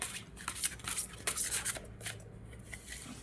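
Tarot cards being shuffled and drawn by hand, with soft papery riffles, slides and flicks that come in quick bursts close by and with no talk.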